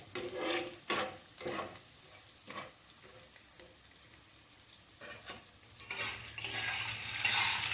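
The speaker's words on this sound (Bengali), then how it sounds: "একটু ফ্রাই করলে ভালো গন্ধ বেরোয়, তাই জন্য হালকা একটু ফ্রাই করে নিচ্ছি।" Ingredients for fish-head murighonto are lightly fried in a pan with potatoes and turmeric, giving a steady soft sizzle with repeated scraping stirs of a utensil, close and fairly quiet with no talking.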